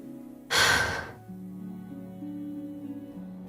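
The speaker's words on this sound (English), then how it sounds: "leaving only the sound of the girl suppressing breathing" A girl in the game Path to Nowhere draws one sharp, breathy gasp, then holds her breath in a near-silent room while a low steady hum continues beneath.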